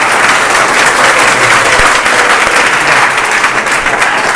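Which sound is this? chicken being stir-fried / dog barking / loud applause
loud applause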